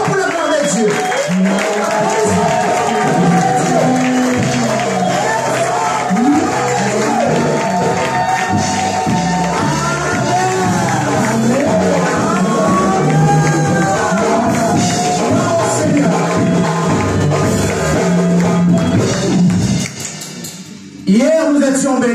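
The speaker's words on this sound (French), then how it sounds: "l'église nous en applaudit très fort pour le nom de Dieu" A church congregation at a Sunday service applauds and cheers loudly and continuously, with overlapping shouts, whoops and voices over dense clapping before it cuts off abruptly near the end.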